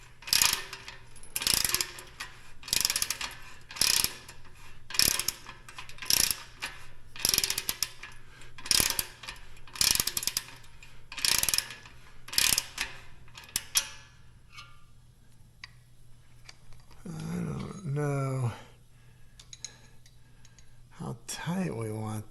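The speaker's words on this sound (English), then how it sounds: "Tightening these is going to take a crescent wrench on one side." Bolts on an Ultra Fuego UF-1186 home gym are tightened with a wrench: a dozen evenly spaced ratcheting clicks ring out close by, then quieter scraping and a brief voice follow.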